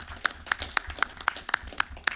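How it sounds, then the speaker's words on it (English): Meeting audience applauding at a county board of supervisors session, a steady run of sharp, fairly close claps at an even rhythm for a couple of seconds. "We ought to applaud that."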